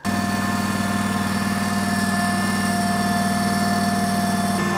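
An old John Deere 318 garden tractor engine runs steadily close by, a loud, even droning idle with a constant rhythmic pulse and no talk.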